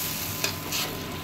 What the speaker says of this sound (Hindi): जब तक ये बिल्कुल नहीं पकता हम इसको इसी तरह से चलाते रहेंगे